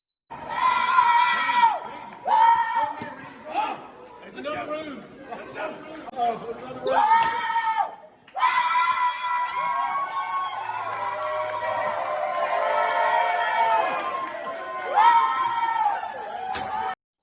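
A man yells loudly, again and again, while running through a crowd at the Dawsonville Pool Room during a NASCAR Cup Championship race, his shouts rising above steady crowd chatter and cheering.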